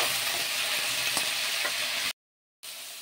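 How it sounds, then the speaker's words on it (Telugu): Ingredients for jome pachadi sizzle and crackle steadily in a hot pan, a dense broadband hiss with a few stirring scrapes, cutting abruptly to silence near the end before the frying resumes. "కొద్దిసేపు ఫ్రై అవనివ్వాలి"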